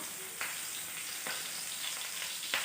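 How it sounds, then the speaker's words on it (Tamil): Paneer fries in spattering oil, a continuous soft crackling sizzle broken by a few sharp clacks of a utensil turning the pieces, moderately quiet and with no talking. "இது பன்னீர் போட்டிருக்கனால வந்து இது எண்ணெய் தெரிக்கும்"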